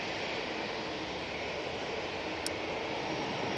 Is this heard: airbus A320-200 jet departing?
yes